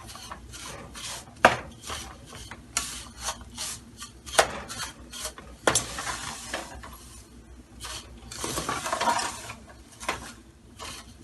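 Vermicelli roasting in a pan for sweet shahi siwayyan on medium-low heat is stirred with steady rasping, scraping strokes and occasional sharper clinks against the pan, close and continuous with no talk.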